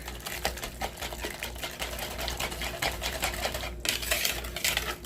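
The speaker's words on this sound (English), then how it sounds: "and 2 eggs. Give it a nice whisk." Two eggs are whisked into banana nut bread batter with vanilla extract, making a rapid, continuous rattle of dense rhythmic strokes close by with no talk over it.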